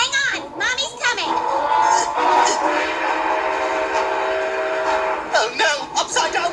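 Cartoonish clattering and screeching of a train crashing and flipping upside down in an animated comedy, loud and chaotic, with excited voices shouting briefly before and after.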